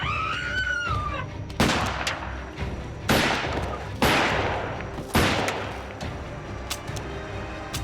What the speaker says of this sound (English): she sat up and pointed the gun out the window and fired and kept firing